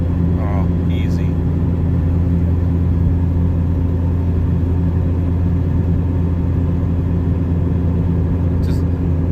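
A Jeep XJ with a 5-speed, climbing a bluff in overdrive, its engine giving a loud, steady low rumble and whir throughout, close up, with brief talk over it.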